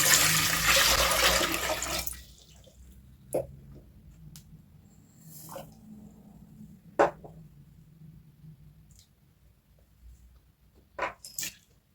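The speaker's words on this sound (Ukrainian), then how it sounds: "В каструлю, в якій буду готувати маринад, вливаю воду" Water is poured into a saucepan to make a brine marinade for salted pork fat: a loud, broadband splashing rush for the first two seconds, then quiet with a few faint clinks and small knocks.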